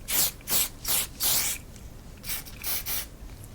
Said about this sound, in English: You can spray it directly on you.